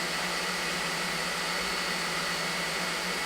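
A 3D printer's cooling fan blows hard in sport mode, a steady, loud, close whooshing rush of air with an even hiss that holds constant throughout, with no voices.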